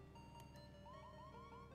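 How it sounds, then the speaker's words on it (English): The siren on a police motorcycle in a roleplay video game gives a faint, steady electronic tone that moves into rapid rising-and-falling yelps, with two brief clicks near the start. "Can I hear my siren now?"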